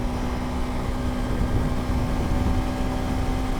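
An adventure motorcycle engine drones steadily and loudly, with a constant hum and rushing wind or road noise. There is no speech.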